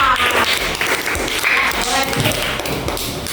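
Classroom applause for group presentations, a dense patter of hand claps filling the space throughout with tapping and thumps, loud and close, with voices mixed in.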